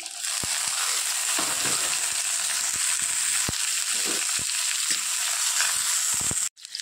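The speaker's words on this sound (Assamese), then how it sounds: "মাছখিনি অলপ সিজাৰ পাছত দিছোঁ এতিয়া আদা নহৰুখিনি" Ginger and garlic frying in a pan for fish chutney, giving a steady loud sizzle with scattered stirring clicks and scrapes, close and continuous without speech.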